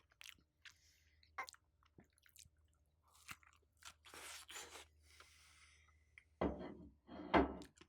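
Someone bites and chews a big two-layer cucumber sandwich up close. Soft crunches and moist squishes come in irregular bursts, growing louder toward the end, with quiet pauses between bites and no talking.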